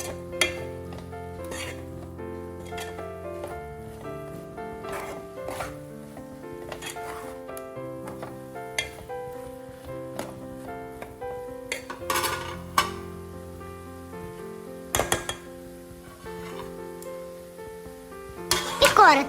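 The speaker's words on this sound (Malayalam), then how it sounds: "ഇതെല്ലാം നന്നായി ഇളക്കി ചേർത്ത് കൊടുക്കാം." A spoon scrapes and stirs a Kashmiri and plain chili powder mixture in a pan, with steady clinking and scraping throughout and a louder clatter near the end, over a continuous background of musical tones.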